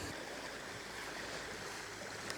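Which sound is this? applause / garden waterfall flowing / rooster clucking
garden waterfall flowing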